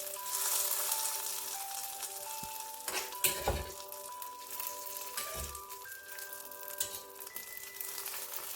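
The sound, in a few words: mustard and curry leaf tempering poured into pumpkin dal curry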